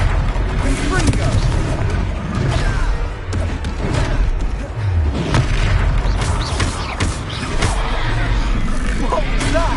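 Spell blasts from the Confringo curse in a Hogwarts Legacy combat scene, loud booming explosions layered over continuous game music and effects, with short voiced combat lines mixed in.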